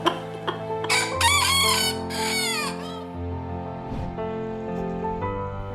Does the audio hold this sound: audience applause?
no